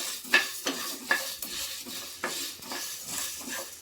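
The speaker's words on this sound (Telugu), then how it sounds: "3/4 కప్పు ధనియాలు మనం త్వరగా వేయించుకోవాలి" Three-quarters of a cup of coriander seeds are dry-roasted in a pan, giving a short burst of rattling, scraping stirs with a faint dry sizzle between strokes.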